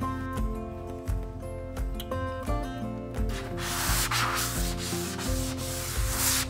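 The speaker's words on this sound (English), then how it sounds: "I sanded down the baseboards again because I was gonna do another coat" Wooden baseboards sanded by hand give close, steady rubbing and scraping strokes, with a brighter hiss in the second half, over a faint tonal hum.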